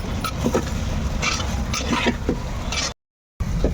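A spiced pea and egg curry with chili powder is stirred in a pan over a wood-fired stove: repeated close scraping strokes of a spoon over a soft sizzle, broken by a brief silent gap near the end.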